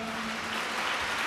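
A congregation claps together during a prayer service, a steady dense wash of hands sustained through the moment, with a faint low hum underneath.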